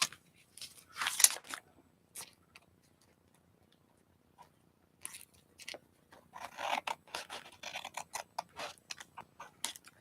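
Scissors snip through paper for a mixed media envelope, giving close, irregular bursts of crisp cutting and rustling separated by quiet pauses.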